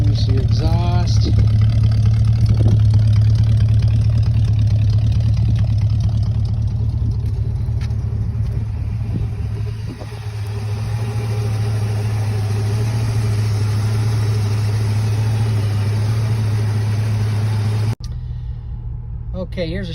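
A 1963 Ford Falcon Futura idles steadily through its exhaust with a deep, continuous low rumble close by, holding even for most of the run before a brief break near the end, while a person talks over it.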